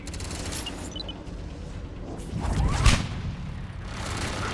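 Grenade explosion in Mass Effect 3, a moderate muffled boom swelling out of low rumbling battle noise with a sharp crack at its peak, then settling back into ambient combat.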